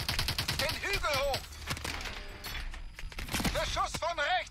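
Gunfire in Call of Duty Advanced Warfare, rapid bursts of automatic shots at the start and again near the end, with a player talking loudly between and over the bursts.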